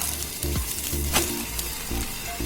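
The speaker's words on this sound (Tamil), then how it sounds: "ஸோ இப்போ ஃப்ளிப் பண்ணிக்கலாம் திருப்பி." Capsicum masala egg roll sizzling steadily in a hot pan after being flipped, a close, continuous frying hiss with a few soft scrapes and taps.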